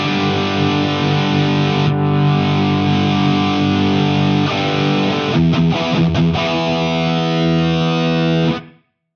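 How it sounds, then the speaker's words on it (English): Thick, aggressive fuzz distortion from an Eventide Knife Drop guitar pedal, a sustained saturated guitar chord ringing loud and steady with a few choppy restrikes near the end before cutting abruptly to silence. "that's a really aggressive sounding distortion fuzz"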